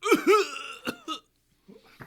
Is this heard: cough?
yes